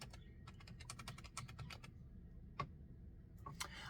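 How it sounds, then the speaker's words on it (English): Computer keyboard typing, a quick run of light, close key clicks followed by a few scattered taps over a faint low background hum. "I'm going to type in new beginnings."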